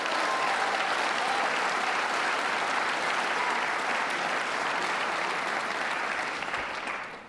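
A large audience at a New York governor's budget address gives Queens College a sustained round of applause, dense and steady clapping filling the room before tapering slightly at the end.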